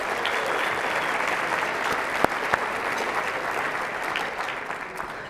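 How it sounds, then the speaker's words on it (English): An audience at a college of pharmacy gala applauds its sponsors, a dense, steady roar of many hands clapping close by, with a few sharp individual claps standing out. "Let's give them a round of applause as well."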